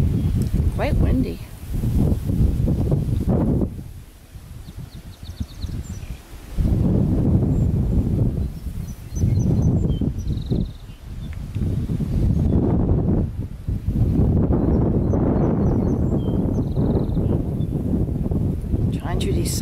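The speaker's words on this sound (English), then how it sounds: "Quite windy." Wind blows steadily through rustling leaves on a hot, green day near a hill and bridge, a loud broad rush that swells and eases in gusts, with a person talking at times over it.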